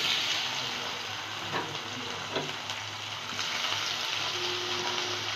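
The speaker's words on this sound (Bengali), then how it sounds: "আর একটু ভেজে নেবো হালকা করে" Tomatoes and four green chillies fry lightly with small shrimp in a pan, giving a steady close sizzle with a few soft stirring scrapes and no talk.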